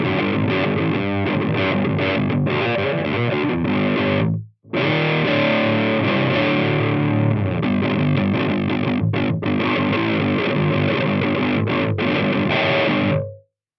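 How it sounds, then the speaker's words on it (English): A low-tuned electric guitar is played through distortion, with thick, buzzing chords and riffs ringing continuously, broken by one brief silent gap before the heavy saturated tone resumes and cuts off at the end. "Let's grab the low tuning guitar"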